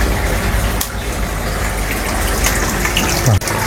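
A Yamano WP106 water pump rated at 85 watts and 4000 litres per hour runs in a koi vat pond, giving a loud, steady rush of churning water throughout with a brief dull knock near the end.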